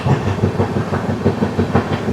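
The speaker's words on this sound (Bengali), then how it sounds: "ট্রেন কিন্তু বেশ ভালো গতিতে এখন এগোচ্ছে।" A passenger train runs at good speed past Gulma in West Bengal's hills, heard from inside: loud, close rhythmic clickety-clack of wheels over rail joints with a steady rumbling roar beneath.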